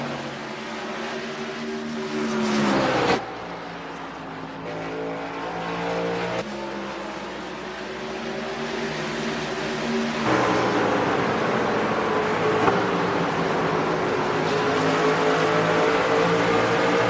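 Race trucks roar around Bristol Motor Speedway in Tennessee, a loud, continuous engine drone with rising and falling pitch as the field sweeps past, without any talk over it.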